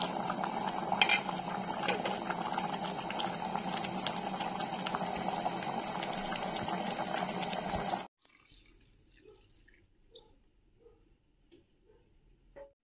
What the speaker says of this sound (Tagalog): Ayan, kumukulo ng bilis.